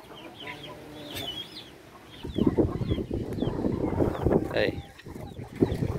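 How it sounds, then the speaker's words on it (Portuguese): Chickens cluck in a rural farmyard, with many birds calling close by in overlapping, irregular bursts. Someone speaks Portuguese over them at times. "Olha o tanto de galinha que tem."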